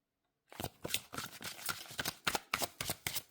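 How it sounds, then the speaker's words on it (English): Tarot cards shuffled by hand at close range, a run of crisp riffling bursts in an uneven rhythm after a brief silent start, heard alone. "now we're going to actually start shuffling to pick your piles"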